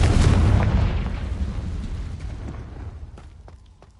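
Confringo spell explosion in Hogwarts Legacy: one loud, deep boom at the start that slowly fades over several seconds, with faint clicks and crackles in the tail.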